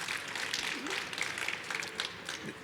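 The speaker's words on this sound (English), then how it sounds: "let's have a round of applause for the people who are at CES for the first time" Faint applause rises from an audience at CES 2024, a loose patter of scattered claps heard from a distance, with a few voices murmuring and cheering underneath.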